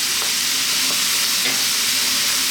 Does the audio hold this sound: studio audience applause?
no